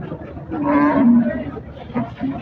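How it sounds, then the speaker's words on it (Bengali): A cow lows once in a long, drawn-out moo at a large, muddy Chandaikona cattle market, fairly close, with crowd murmur and shorter calls from other cattle around it. "তো দেখতে পাচ্ছেন আশেপাশে কিন্তু বিশাল বড় বড় গরু"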